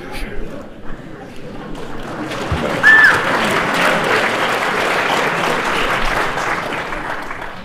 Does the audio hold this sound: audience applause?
yes